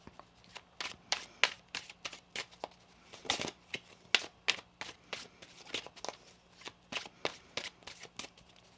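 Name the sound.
shuffling a deck of cards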